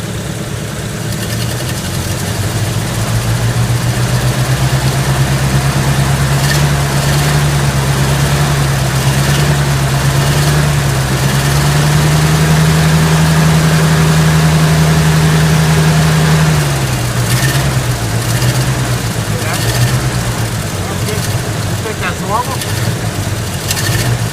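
A vehicle's engine fan and fan belts whir steadily and loudly throughout, a continuous drone whose pitch rises slightly in the middle and then drops back, with faint voices underneath.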